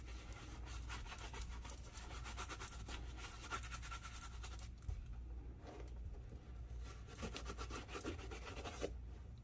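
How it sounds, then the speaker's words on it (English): A horsehair brush rubs mink oil into a leather shoe, producing a soft, steady brushing and scrubbing sound in rhythmic strokes, close and quiet with no talking. "just rub that mink oil in with your horsehair brush"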